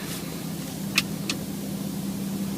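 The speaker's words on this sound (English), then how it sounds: "Engine start." The engine of a 2014 Range Rover Sport idles smoothly and steadily from inside the cabin, with a couple of short clicks early on.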